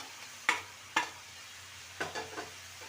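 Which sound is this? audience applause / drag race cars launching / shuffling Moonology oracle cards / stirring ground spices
stirring ground spices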